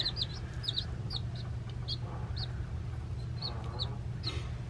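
Baby chicks peep softly in quick high chirps, scattered across the clip over a steady low background hum.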